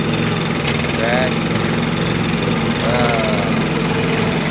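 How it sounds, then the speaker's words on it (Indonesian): A stone-making machine used to form kap tarik stones runs with a loud, steady engine drone close by. Someone talks over the noise. "tutorial membuat batu kap tarik pakai mesin"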